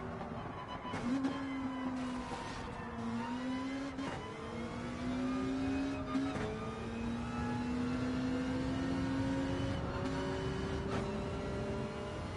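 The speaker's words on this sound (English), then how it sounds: "I'm trying to drive by the sound of the motor" A race car engine in Gran Turismo 7 revs steadily and climbs in pitch through repeated gear changes, droning loud and close with no talk over it.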